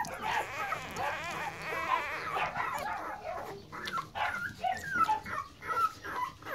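A litter of six newborn puppies whimpers and squeaks while nursing from their mother, many small overlapping cries close and continuous, with a few short yips.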